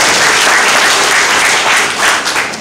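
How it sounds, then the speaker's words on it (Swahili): Sustained applause from an audience at a party political rally, steady and fairly loud throughout without speech over it. "Tulipigia makofi wenyewe."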